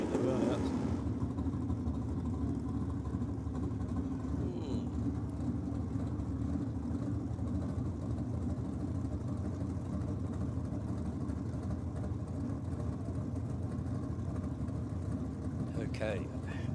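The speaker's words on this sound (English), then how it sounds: "There's Luke Romeo and Joe Pilato doing the burnouts." Drag racing cars do burnouts at Sydney Dragway during a state championship round, a continuous low engine rumble heard from a distance under a commentator's voice, with a brief harsh burst near the end.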